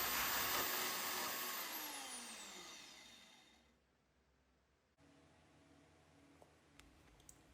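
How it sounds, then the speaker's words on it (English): A portable bandsaw cuts through brass pins with a loud whining buzz that winds down and fades over several seconds, followed by quiet room noise and a few faint clicks. "When it comes to cutting my brass pins, I just use my portable bandsaw"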